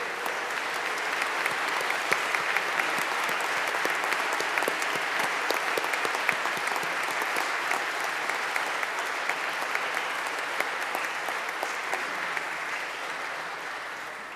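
Sustained applause fills a hall at a hall of fame induction ceremony, dense steady clapping from a large audience lasting the whole time and tapering slightly near the end.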